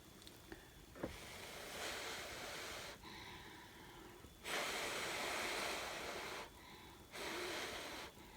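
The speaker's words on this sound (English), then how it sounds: "I'm going to blow on it and I'll be right back" Several breathy blowing bursts of mouth air across wet fluid-art acrylic paint on a 10 by 10 inch canvas, coming in separated gusts with quiet pauses between, close and fairly loud.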